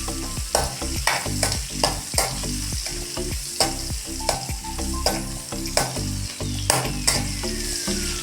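Byadagi chillies fry in a pan for dhaba-style paneer, a loud, continuous oily sizzle with regular scraping strokes as the contents are stirred, and no talking.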